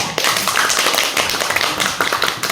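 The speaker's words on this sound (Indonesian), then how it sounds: "boleh tepuk tangan dulu untuk kelompok 1" Students in a combined class clapping for a group, a loud close rush of many hands with sharp uneven taps, brief and without talk.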